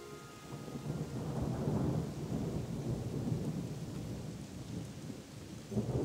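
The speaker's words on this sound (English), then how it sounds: "And as if by clockwork, it's raining." Steady rain hisses down in China while low thunder rumbles continuously in the background, fairly faint and distant overall.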